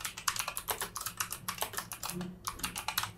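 Rapid, steady key presses on a computer keyboard while a code comment for a custom theme option in WordPress theme development is typed, close and clear with no talking.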